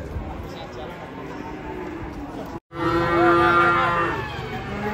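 Large cattle low loudly while being unloaded from a truck, a long close moo rising over the crowd's chatter after a brief gap.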